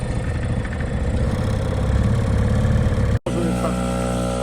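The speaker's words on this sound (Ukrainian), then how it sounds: "Даємо трошки газку і. О! Працює! Працює, як завжди, працює." A boat motor catches and settles into a steady, loud running rumble, heard up close outdoors on a river trip among islands; a brief dropout near the end, then the engine keeps running with a deeper tone.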